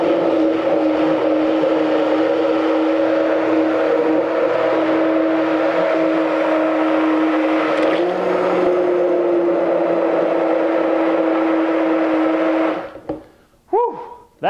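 A Turbo Brawn power blender pureeing herb oil runs with a loud, steady motor whine, its pitch shifting slightly midway before the motor cuts off and spins down near the end.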